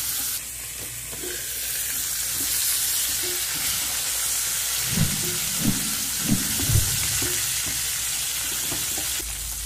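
Steady sizzling of fat frying in a pan, with a few louder crackles and stirring clatters toward the end, close and continuous.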